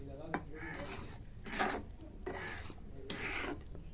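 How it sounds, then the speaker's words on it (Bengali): Semolina being stirred with ghee in a pan, a spoon scraping and rasping against the metal in four or five separate strokes, close and fairly quiet, with no voices. "এবার সুজির সাথে ভালো করে মিক্স করে দেবো আমি।"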